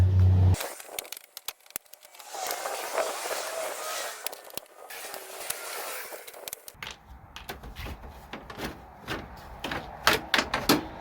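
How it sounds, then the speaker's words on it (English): Plastic rivets are pried loose from a car radiator cover, giving scattered sharp clicks, snaps and rattles close by over a quiet background, with a few louder pops near the end. "we're going to want to pop this cover off with all these little plastic rivets"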